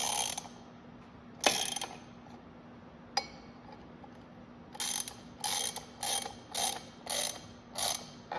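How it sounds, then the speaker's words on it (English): Puller being cranked to remove the clutch from a John Deere 720 tractor, with a few scattered metallic clicks followed by a steady run of about seven sharp ratcheting clanks, close and alone. "So just a couple cranks on it at a time so it starts to come off evenly."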